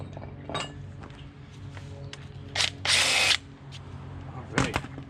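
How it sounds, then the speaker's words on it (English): Power tool briefly spinning off an old brake banjo bolt at a caliper on a JK Jeep one-ton axle swap, a short loud whir with metallic clinks amid quiet garage background. "Remove our old banjo bolt and washer."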